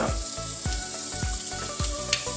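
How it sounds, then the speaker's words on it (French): Shrimp skewers frying in a hot pan give a steady close sizzle, with low bubbling pops repeating roughly every half second and no voices. "Maintenant que la poêle est chaude, nous allons rajouter des brochettes de crevettes."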